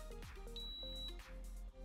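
An automatic curling iron gives a short electronic beep as it switches on, one clear tone heard alone and fairly near at a quiet level.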